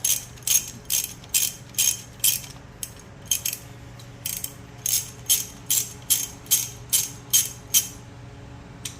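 A hand ratchet cranks on the cylinder head bolts of a Harley Sportster Evo engine during a top-end teardown, giving steady, loud, evenly spaced clicking strokes in two runs separated by a short pause.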